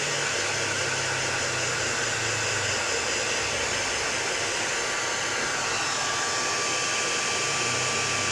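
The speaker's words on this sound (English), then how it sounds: "when you are embossing with your heat gun, to let your heat gun warm up a little bit before going in there with the embossing powder" A heat gun warms up before embossing powder is heated on a Christmas wreath card, giving a steady, close, unbroken blowing hiss and whir throughout with no talking.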